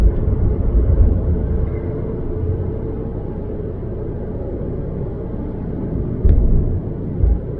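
A car drives through the city at about 40–45 km/h, a steady low engine and road rumble heard from inside the cabin, swelling slightly at moments.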